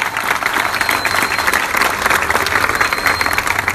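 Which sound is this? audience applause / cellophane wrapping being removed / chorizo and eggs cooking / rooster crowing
audience applause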